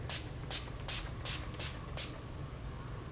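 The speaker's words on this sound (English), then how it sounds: "so I just shake it up and then do a few sprays" Makeup setting spray is spritzed in about six short, evenly spaced hissing bursts, close by and fairly quiet against a low background hum, with no talking.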